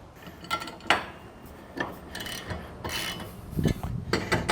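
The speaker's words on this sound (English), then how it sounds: "when you're sure that you have these 2 braces in the proper adjustment to fit into your puck, you can then tighten down these bolts" Brace bolts on a Gen-Y GoosePuck hitch being snugged down in the bed of a 2026 Ram 3500 Mega Cab, giving close, intermittent metallic ratcheting clicks and clanks with no talking.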